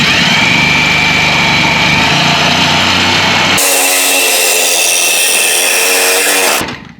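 A power tool cutting through a car exhaust pipe during a cutout install, a loud, continuous, high-pitched whine that shifts character midway and then cuts off abruptly near the end.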